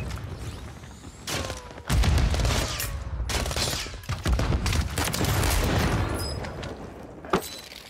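Dual-wielded Tyr pistols firing in Warzone 3, with loud repeated shots in clustered bursts, booming impacts and mechanical clicks, continuing for several seconds with no voices.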